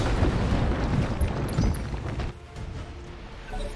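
Heavy explosions from carpet bombing in the BattleTech video game rumble in a dense, continuous roar, loud and close, with a few sharp bursts before the barrage thins into a lower rumble.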